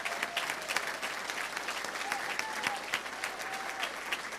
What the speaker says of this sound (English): round of applause for graduates